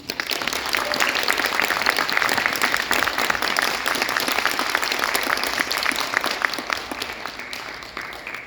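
Sustained, dense applause from an audience at a talk welcoming a speaker to the stage, steady clapping throughout that thins slightly near the end.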